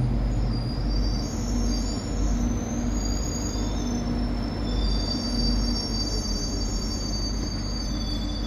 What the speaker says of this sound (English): This is a Northern Line train